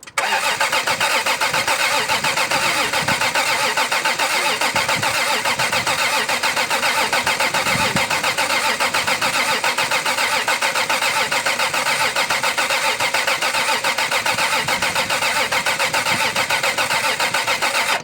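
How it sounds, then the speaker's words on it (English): A Toyota Supra mk3 engine fresh from a head gasket and timing belt replacement cranks, catches, and keeps running at a loud, rough, steady idle close by, with a dense rattling drone and no talk. "I'm going to put the battery terminal on and try and start her up"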